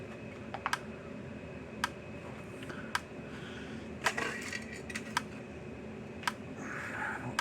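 Sharp clicks from a 35-year-old Gallagher MPE2 electric fence energizer under repair, now clicking instead of lighting its bulb; irregular separate ticks over a steady background hum, close and fairly crisp.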